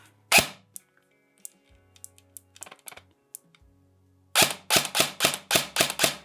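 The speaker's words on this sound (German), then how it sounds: "das dauert ungefähr immer 3 bis 4 Schuss, bis die Elektronik das Precocking dann aktiv hat" A single sharp shot, a few faint clicks, then a rapid run of about eight crisp, snappy shots from an ICS DD MK18 electric airsoft rifle firing 6mm BBs, close by.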